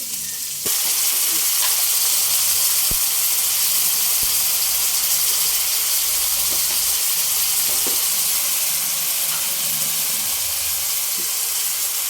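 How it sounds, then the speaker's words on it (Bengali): Ginger, cumin and garlic paste frying in a pan, a loud, continuous close-up sizzle and hiss with occasional faint stirring clicks, no talking. "এবারে দিয়ে দিব এই আদা জিরা রসুন বাটা একসঙ্গে।"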